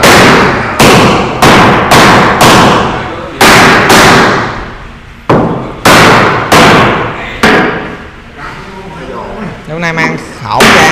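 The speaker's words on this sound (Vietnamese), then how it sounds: "Anh Thái anh sẽ vô lấy búa để anh đóng nó xuống." Hammer strikes driving protruding nails back into a wooden boat: a series of loud, sharp bangs roughly every half second with brief pauses, ringing slightly, then a few scraping and shuffling sounds at the end.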